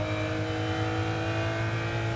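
A 1995 McLaren F1 race car engine screams at high revs at Le Mans, heard onboard as a steady, loud, buzzing mechanical roar.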